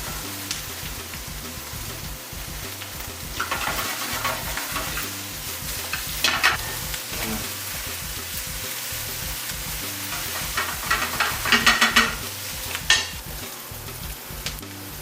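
Brussels sprouts sizzle and fry steadily in a pan on high heat, with a spatula stirring and scraping through them in intermittent bursts; no one talks.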